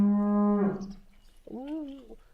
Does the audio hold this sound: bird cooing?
no